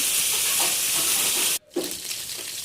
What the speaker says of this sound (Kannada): ಸಣ್ಣ ಮಧ್ಯದಲ್ಲಿ ಹರಚಿ ನಂತರ ಎಣ್ಣೆ ಹಾಕಿ ಫ್ರೈ ಮಾಡಬೇಕು